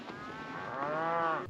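Cattle in dry pens let out a single drawn-out moo that rises and falls, fairly close and clear against faint background noise.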